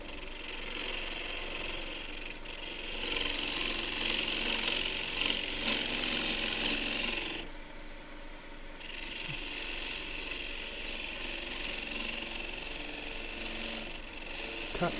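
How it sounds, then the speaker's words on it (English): Gouge cutting a roughed-out wood cylinder on a lathe, a rapid chattering, ratchet-like scraping over the motor's hum that fades during a brief pause and then resumes at a steady level. "use the gouge, and I should be cutting from smaller to larger diameter for a good cut"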